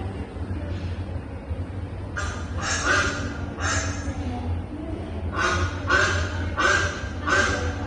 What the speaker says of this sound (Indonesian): Sekarang kayak Gita, ini suara bebek.